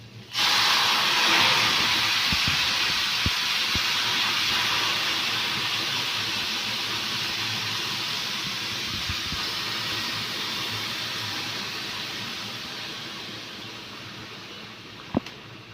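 Potatoes, onion, carrot and pepper sautéing in a pan give a loud, steady sizzle and hiss that runs the whole time with only faint, occasional clicks.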